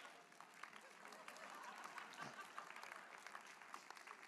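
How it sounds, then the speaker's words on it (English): Audience applause at a motivational talk, steady but faint and distant-sounding clapping mixed with crowd murmur for a few seconds. "Big round of applause for Scott."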